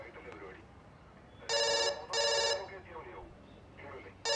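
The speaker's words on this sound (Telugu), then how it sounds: "ఫోన్ రింగ్ అవుతుంది కదా, తీ." A telephone rings in three loud electronic bursts with gaps between them, over a noisy room where people talk.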